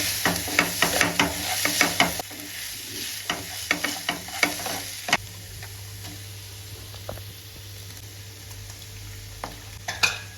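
Green chillies sautéing in a pan for egg podimas, a steady sizzle broken by frequent clicking scrapes of a stirring spoon, busier in the first two seconds and then sparser, close and alone without talk.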